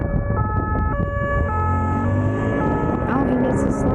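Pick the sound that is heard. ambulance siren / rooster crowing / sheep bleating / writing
ambulance siren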